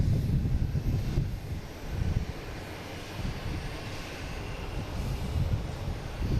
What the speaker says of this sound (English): Flight 5798 coming in from JFK and E175.